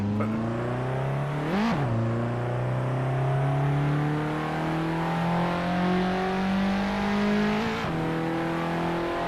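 A racing car's engine in the Assetto Corsa driving game drones loud and steady, pitch climbing through each gear with sharp drops at two gear changes; a track with a hairpin lined by straw bales.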